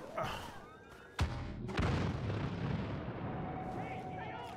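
Grenades go off in Star Wars Battlefront: two sharp, loud blasts about half a second apart, followed by a long rumbling tail and background battle noise.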